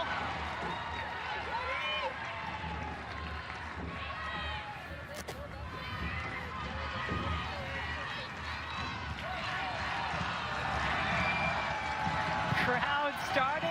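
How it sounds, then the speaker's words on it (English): Crowd noise swells steadily at an NCAA women's soccer championship final, a dense roar of cheering and chatter building in the stands beneath a commentator's running talk. "Crowd starting to get loud."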